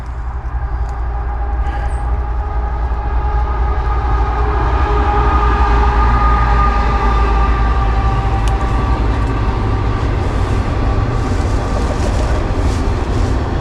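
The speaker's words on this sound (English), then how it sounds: "with that train we can continue, because he also makes a noise cover" A train rumbles past steadily over a trestle, a loud, continuous low roar with rattling wheels and a faint high screech, with no talking.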